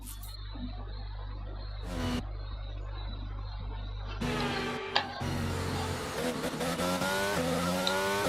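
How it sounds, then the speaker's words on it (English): In a racing video game, an F1 car driven by Schumacher spins out at Imola, with the engine droning, a sudden cut, then screeching tyre skids and rising engine whine over steady background hum. "Oh my god, Schumacher spun out"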